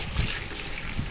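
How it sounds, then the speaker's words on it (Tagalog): Water pours steadily into a cooking pot of pork in a home kitchen, a brief close, continuous splashing gush with no talking. "lalagyan ng tubig"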